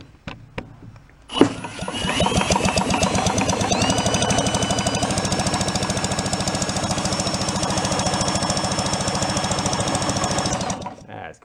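An 83-year-old antique two-cylinder marine pump engine fires up with a sharp start and then runs steadily, its loud, even chugging and rattling knock continuing for about ten seconds before cutting off.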